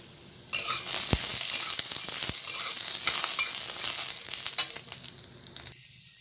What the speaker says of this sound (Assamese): এতিয়া কেৰাহীত মই অলপমান ৰিফাইন তেল দি লৈছো এতিয়া মই বাদামখিনি প্ৰথমতে ভাজি লম